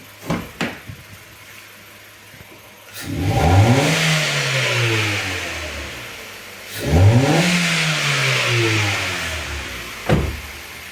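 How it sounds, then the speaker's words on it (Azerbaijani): A car engine revved twice with the throttle during diagnostic checks, each rev climbing to a loud roar and then falling back toward idle, with a few clicks before and after, close up and with no talking. "Getdim qaz verməyə."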